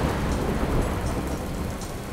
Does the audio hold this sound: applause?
no